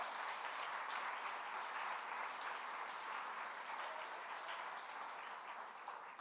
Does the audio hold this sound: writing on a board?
no